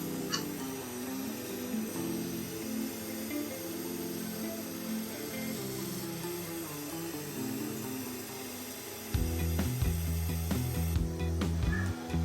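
A wooden wine stopper is sanded as it spins on a lathe, making a steady whirring, rubbing hum with a tonal drone that deepens and grows louder partway through.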